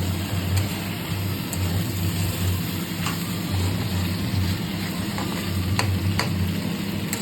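Pasta frying in a pan for Bengali-style pasta, a steady loud sizzle with intermittent scraping clicks of stirring, close and continuous with no talk.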